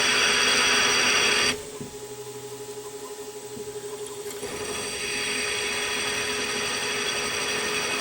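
A milling machine runs at about 800 rpm, drilling a corner hole in a tooling plate, its steady whir and hum dropping in pitch partway as the cutting load changes, then settling into an even drone.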